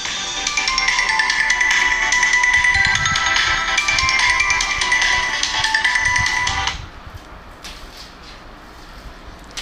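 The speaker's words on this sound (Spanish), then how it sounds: "disculpen que me sonó el teléfono" A phone ringtone plays loudly and steadily for about seven seconds, repeating a bright electronic melody, then cuts off abruptly, leaving quiet room tone.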